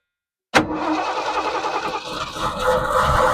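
A Lincoln engine fitted with a new Amazon carburetor cranks and catches in one sudden burst, then settles into a loud, steady rumbling idle that swells slightly toward the end.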